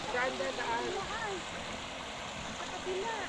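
A river flows in a steady, faint wash of running water, with people talking over it throughout.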